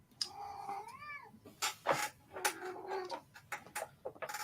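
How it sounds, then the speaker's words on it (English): A cat gives a short, rising-falling meow close by, followed by scattered rustling, tapping and clattering noises. "I hear your cat."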